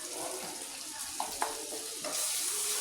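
Spices sizzle in a hot pan while making an arbi (taro root) fry, a steady close frying hiss with a couple of faint stirring clicks, the sizzle growing slightly brighter near the end.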